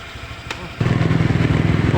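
A motorcycle engine starts up partway through, a close, pulsing low rumble that stays loud and steady after a brief click, with a quieter background and faint voices beforehand.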